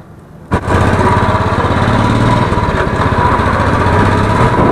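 A motorbike engine kicks into life with a sharp start, then settles into a fast, even putter that runs loud and close without pause to the end.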